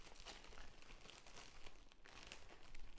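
A gallon-size plastic storage bag holding leftover taco shells crinkles and crackles steadily as it is handled, a close, continuous rustle with no talking.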